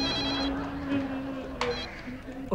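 A telephone ring tone sounds through a line, steady and tonal, with murmuring voices and background noise around it.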